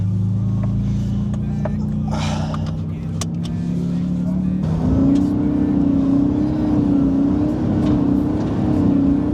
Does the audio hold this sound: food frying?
no